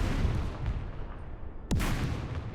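World War II turn-based Second Front gameplay: a dense, rumbling wash of distant gunfire and artillery, broken by one sharp, loud shot partway through.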